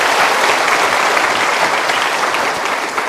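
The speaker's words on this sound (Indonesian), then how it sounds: "Kita berikan tepuk tangan dulu." Steady, loud audience applause at a motivational talk event fills the whole stretch without pause, a dense crowd of clapping hands with no voices over it.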